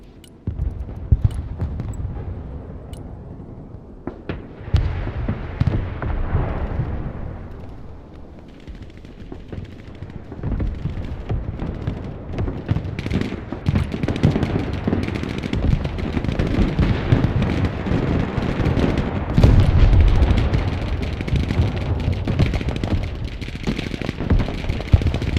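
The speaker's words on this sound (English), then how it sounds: "That's fucking Azozote rockets in the ass." Rocket fire and explosions rumble through a Broken Arrow battle: a dense, continuous barrage of booms and crackling blasts that builds over the stretch, loud and sustained with no voices.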